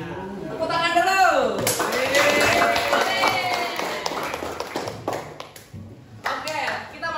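Children in a classroom clap their hands together in a lively burst of rapid claps, fading unevenly with a few scattered taps and voices around them.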